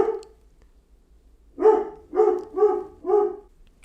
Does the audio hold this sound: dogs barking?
yes